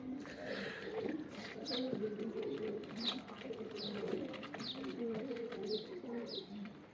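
Several pigeons coo softly in a low, repeated rhythm, with a few sharp higher chirps at regular intervals, all fairly faint against a quiet background.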